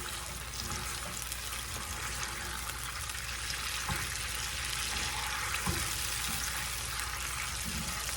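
Bacon drippings, vinegar, water and sugar heat together in a pan, giving a steady, close sizzle with a faint bubbling hiss that runs unbroken throughout.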